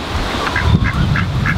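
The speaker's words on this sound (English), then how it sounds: "There are the ducks." Ducks calling outdoors among backyard chickens, with four short nasal quacks spaced evenly over a low rumble of wind or handling noise.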